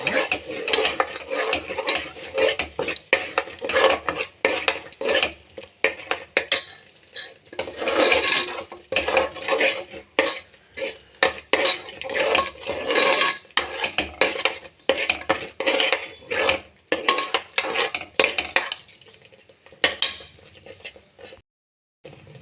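Ground tomato frying in a pan for puri vegetable sagu, with a utensil repeatedly scraping and clinking against the metal in an irregular, busy rhythm, close and fairly loud, no talking.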